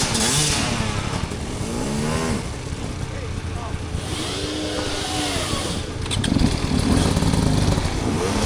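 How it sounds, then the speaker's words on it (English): Dirt bike engines rev hard with wheelspin during a muddy hard enduro race, a loud continuous motorcycle roar with rising and falling revs, with people talking over it. "Definitely can hear those tires spinning."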